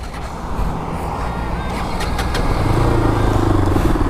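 An RS200 BS6 motorcycle engine running close by, a steady rumbling idle that rises slightly in pitch and intensity as it revs up, with no talking.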